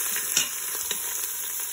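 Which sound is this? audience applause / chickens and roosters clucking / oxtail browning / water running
oxtail browning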